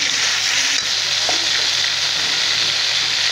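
A spice paste of onion and garlic sizzles in a wok after water is poured in, a steady close hiss with one brief clack of a utensil and no speech.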